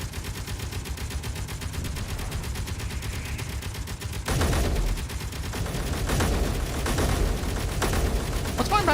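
Rapid rhythmic firing from a Gatling gun mounted on the Burgertron vehicle in a video game, a steady rattling stream of shots that grows louder and denser partway through, mixed with game background sound.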